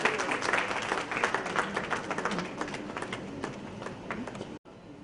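Steady crowd applause at the inaugural session of a health summit in Rajasthan, with dense clapping that fades slightly, then cuts off abruptly near the end.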